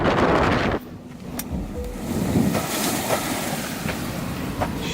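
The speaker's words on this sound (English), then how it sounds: "The initially calm seas grew increasingly rough, with winds escalating to force 7, strong enough to whip up sizable waves." Rough seas whipped up by force 7 winds slap against a sailing yacht, with a loud burst of spray and wind noise at first, then a steady churning wash of waves and occasional knocks from the hull, with no voices.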